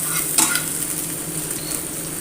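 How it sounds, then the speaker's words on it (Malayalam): Fish masala with mackerel and coconut milk is stirred in a pan over a low flame, a steady soft sizzle with a brief scraping stir near the start, close and alone without talk. "ലോ ഫ്ലെയിമിലാക്കിയിട്ട് ഇതൊന്ന് നല്ലോണം ഒന്ന് മിക്സ് ചെയ്ത് ആ മസാലയൊക്കെ നന്നായിട്ട് അതിലേക്ക് പിടിക്കണം"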